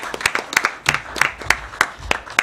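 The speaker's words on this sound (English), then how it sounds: "Shall we give a round of applause?" Audience members at a press conference clap in a sparse, rhythmic pattern of distinct, fairly close handclaps rather than a dense ovation, lasting a couple of seconds.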